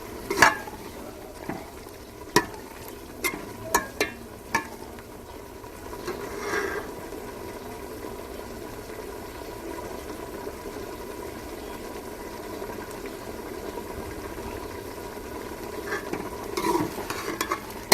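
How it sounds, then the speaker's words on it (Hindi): Tinda (apple gourd) sabzi fries on a low flame while a spoon stirs it, a steady soft sizzle running throughout, with sharp utensil scrapes and taps against the pan near the start and again at the end. "हल्की आंच पे हमने इसे भूनते रहना है।"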